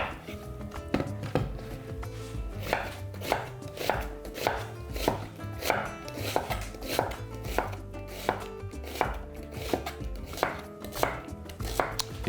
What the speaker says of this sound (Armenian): Կվերցնեմ 4 գլուխ սոխ, սրանք կտրատում ենք կիսա օղակների։